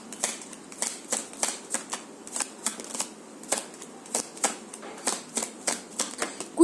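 Tarot cards being shuffled and drawn from a deck: a steady run of quick, crisp riffling flicks and slaps, close and fairly loud, with no voices.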